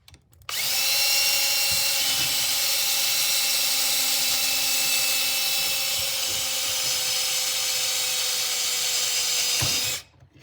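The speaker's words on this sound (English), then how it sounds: "So you can see how we're drilling down through the head" Power drill with a bit grinding steadily through the head of a stripped screw, one continuous loud high whine lasting about nine seconds, starting and stopping abruptly, no voices.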